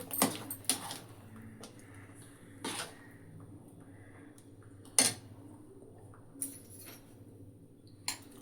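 Pirandai chutney being transferred into a bowl: scattered clinks and scrapes of a spoon against a metal vessel, sharp and close, separated by quiet gaps, with no talking.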